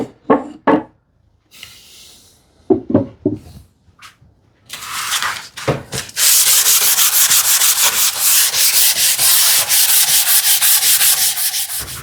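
A wooden TV unit is sanded by hand, starting with scattered knocks and short scrapes, then settling into a loud, steady rhythm of rapid back-and-forth rubbing strokes close up.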